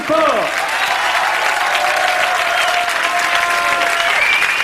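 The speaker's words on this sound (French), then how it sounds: "les sauveteurs, on les applaudit encore plus fort" A TV studio audience applauds rescuers on a comedy show, a full, steady wash of clapping close and loud, with a held musical tone and voices underneath.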